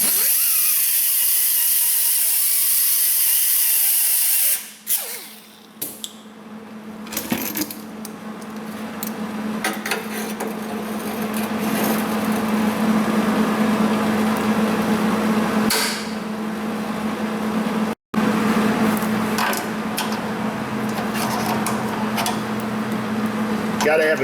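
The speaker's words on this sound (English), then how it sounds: "It has a crack down the side of this too, where the seam is welded, so I'm going to fry a little weld on that." An arc welder lays a short bead on the cracked seam of a Subaru Forester exhaust, buzzing and crackling steadily for many seconds after a few clanks of clamping the ground, with a brief break near the end.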